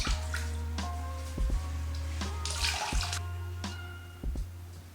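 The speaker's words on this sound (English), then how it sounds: "Now I'm rinsing it with water and soap, then drying and ironing." Fabric is rinsed with water and soap, running water from a tap splashing and trickling steadily, with clinks and bumps of handling and small drips, close by and moderately loud.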